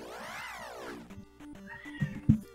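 A cat meows close by, starting with a long rising-and-falling cry followed by a few short, rougher chirps and sounds over a quiet background.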